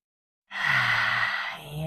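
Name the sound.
deep inhale during yoga breathing practice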